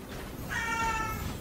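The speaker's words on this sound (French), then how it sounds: "Oh, y a mon petit chat qui miaule." A pet cat gives one short, clear meow indoors, fairly close, over a faint background hum with no talk.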